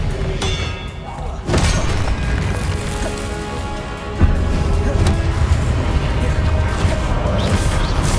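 Spell combat in Hogwarts Legacy, with the Expelliarmus disarming spell cast in a loud burst of booming impacts and crashing hits, then a dense roar of layered effects that swells again partway through.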